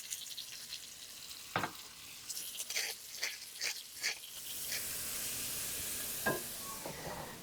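Diced beef steak sizzles steadily in hot pan drippings for a Mexican carne en su jugo stew, with a few nearby stirring scrapes and clatters over a constant frying hiss that grows fuller toward the end.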